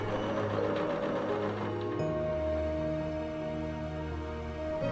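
A sewing machine stitches the fabric of a pinafore belt with a steady, fast mechanical whirr and clatter, and its pitch shifts partway through.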